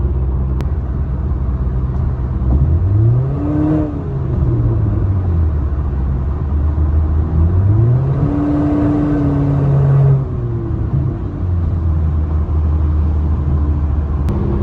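A 1.5-litre turbo 11th-generation Honda Civic running with no exhaust, idling with a deep loud rumble and then revving sharply twice, each time jumping up in pitch before falling back, heard from inside the car.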